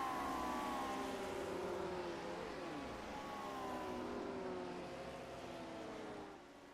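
Lotus 79 race car engines in a retro racing video game at Pocono Raceway, a steady droning whine of several cars with pitch sweeping up and down as they accelerate, moderately loud and continuous, fading slightly at the end.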